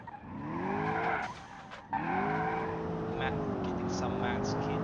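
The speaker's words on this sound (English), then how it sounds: "Getting some mad skids in here." Car tires skid and squeal in the racing game Automation, two long sustained screeches with a brief break between them over a loud engine drone.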